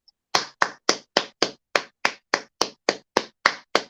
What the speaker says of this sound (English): let's clap for Junior